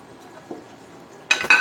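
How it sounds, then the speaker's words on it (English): Dishes and cutlery clink during dish washing at home, a few soft knocks followed by two sharp, loud clattering bursts close by, with a faint air conditioner hum in the background. "Did I mention how much I hate washing dishes?"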